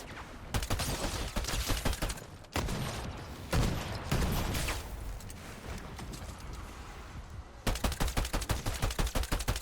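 Rapid bursts of gunfire from the video game Fortnite Zero Build, loud and close, with automatic volleys at the start and end and denser firing between.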